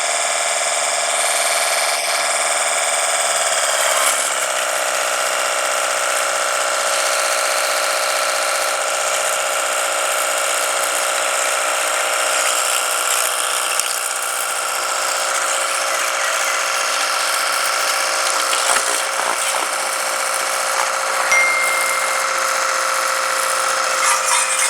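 A portable pressure washer pump for car and bike washing runs continuously with a loud, steady, high-pitched electric motor whine that barely changes.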